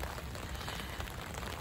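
Rain falling in a steady, dense patter, a brief continuous hiss of drops on surfaces with no voices.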